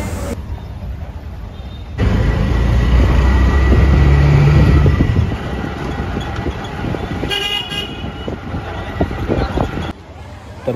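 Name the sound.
auto rickshaw ride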